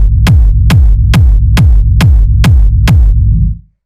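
A hard techno rumble bass pumps under seven evenly spaced, punchy kick drums, the low boom ducking after each hit from sidechain compression, loud and dry before cutting off abruptly.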